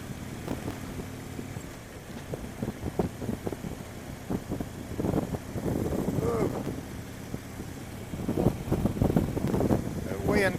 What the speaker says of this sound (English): Boy, that wind's whipping.